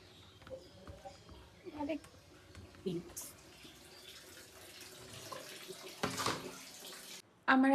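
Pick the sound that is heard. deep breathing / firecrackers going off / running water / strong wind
running water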